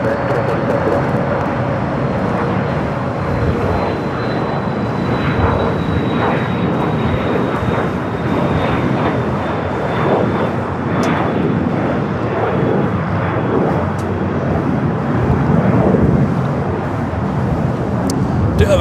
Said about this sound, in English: Do have a Korean Air Cargo 777 freighter heading back to Seoul, flight 8208.